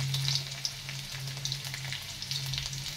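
Green chilli and chopped garlic fry in hot oil with cumin and mustard seeds, making a close, even sizzle with light crackles and intermittent pops, alone without talk.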